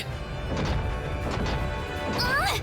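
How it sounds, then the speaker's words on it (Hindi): A phone clatters to the ground with a sharp crash, followed by a brief smack amid a short burst of noise. "तुम्हारी वजह से मेरा फोन गिर गया"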